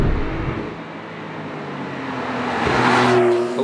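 A 2016 Porsche 991.2 Carrera S on the road gives a continuous engine drone with tyre and wind rush. The sound stays steady, then swells louder toward the end as the car pulls harder.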